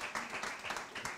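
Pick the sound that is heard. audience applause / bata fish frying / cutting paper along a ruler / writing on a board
audience applause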